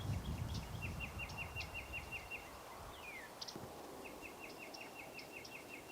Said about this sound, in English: So the sun's starting to come up and there's more birds calling.